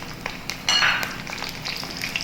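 Sliced green chilies dropped into hot oil in a pan over medium heat, a close, bright crackling sizzle that swells suddenly and then settles into a steady spitting hiss.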